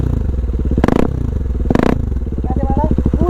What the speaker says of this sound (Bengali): আর ভাই সাউন্ডটা শোনো, 390 সাউন্ড, একই এক্সজস্ট লাগানো একটা ববিক